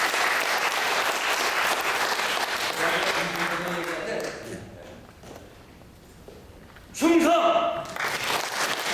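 Audience applause at a Korean Christian prayer breakfast gathering, fairly close and continuous for several seconds, thinning into a quieter lull before a voice speaks loudly over renewed noise.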